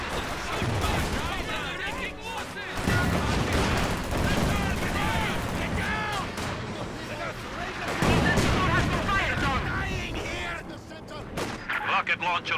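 Katyusha rocket launcher barrage in a real-time strategy match, heard as dense, continuous bursts of rocket and artillery fire over about thirteen seconds, loud and layered with explosions, while commentators talk over the top.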